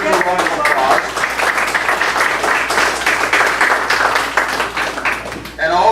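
Rally crowd applauding an emergency services director, loud and sustained clapping that fills the whole moment without a break, with voices mixed in among the claps.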